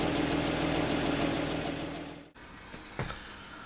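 A Porsche Cayman S 987.2 flat-six idles evenly with a steady mechanical hum and ticking. It cuts off after a couple of seconds, leaving a quiet room with a single knock.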